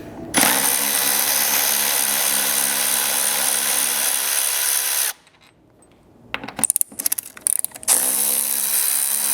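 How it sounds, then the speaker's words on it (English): A power drill fitted with a 12mm socket spins out roof bolts on a Lexus GX or Land Cruiser 250, a loud close whirring run, a pause with short bursts of clicking, then the drill running again. "you'll need to grab a 12mm socket, and we can pull both of these bolts out of the roof here"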